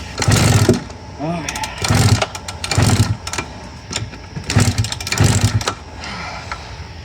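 A 1999 Suzuki RM 125 two-stroke dirt bike engine sputtering to life after restoration, revving in repeated uneven bursts of rising and falling pitch, with someone talking briefly between revs.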